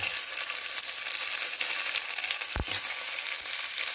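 Chopped tomatoes fry with browned onion in a pot for mushroom biryani, giving a steady close sizzle with a single sharp knock of a utensil partway through.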